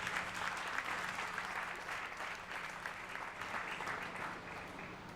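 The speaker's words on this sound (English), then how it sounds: "Shall we do a big round of applause for the founder?" Steady, dense audience applause fills an awards ceremony honouring the founder, a sustained crowd of clapping hands that stays loud throughout and eases off slightly toward the end.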